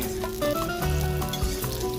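Jamaican saltfish fritters frying in a pan, with a close, steady sizzle and crackle and a few short scraping or clinking touches, no talking.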